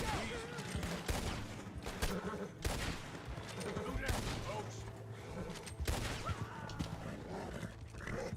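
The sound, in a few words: rifle gunfire in Red Dead Redemption 2 video game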